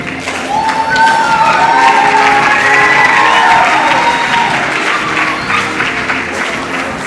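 Audience at a school award during the Kenya National Research Festival breaks into loud, sustained applause with cheering, strongest in the middle and slowly easing off, with a voice faintly audible over it.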